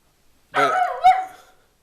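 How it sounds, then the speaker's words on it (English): A single dog's bark, short and fairly close, with a whiny rising edge, in an otherwise quiet room. "that's my dog in the background."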